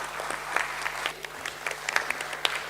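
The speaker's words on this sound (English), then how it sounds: "Let's welcome her with a round of applause." Steady, close applause from an audience at an NSE and BSE stock exchange listing ceremony in Mumbai, dense clapping throughout.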